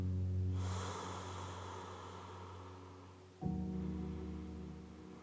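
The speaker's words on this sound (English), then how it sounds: "Let's take another deep breath or so." A single slow, deep breath during a yoga session: a long airy exhale fades over a few seconds, then a sharper inhale through the nose follows, close and quiet with no talking.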